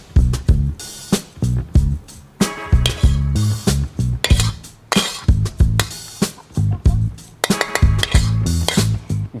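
Indonesian nasi goreng being served from a metal pan onto a plate. A loud run of clinks, scrapes and clatter comes as the spatula knocks against cookware, in irregular bursts close to the listener.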